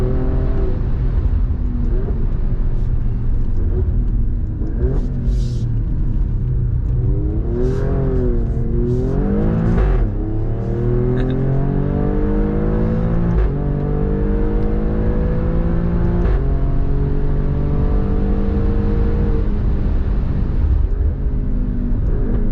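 2024 Alfa Romeo Stelvio Quadrifoglio engine on a race track, loud and continuous from inside, climbing and falling through gears with sweeping pitch changes, plus the pops of the rev limiter.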